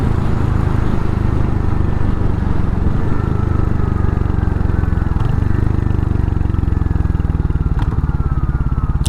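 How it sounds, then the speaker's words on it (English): A 2023 Royal Enfield Hunter 350 motorcycle exhaust note, loud and close, a steady deep thumping rumble with raspy texture that holds for the whole stretch and rises slightly in pitch near the end. "The exhaust note is pretty good."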